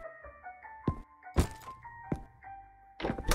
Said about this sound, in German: Hab ich damit die Ratten erschlagen?